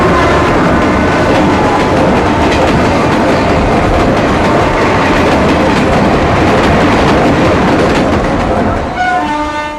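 A train runs right beside a railway track with a heavy, continuous rumble and wheel clatter. Horn tones sound close up near the end.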